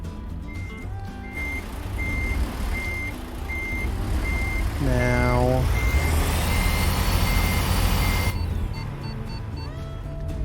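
Reversing beeps sound from a truck hauling special transport cargo in American Truck Simulator, a steady evenly spaced tone over engine rumble, joined midway by a falling air-brake-like hiss and someone talking.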